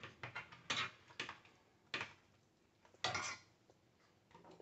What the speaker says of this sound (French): Donc on va les mélanger dans la sauce.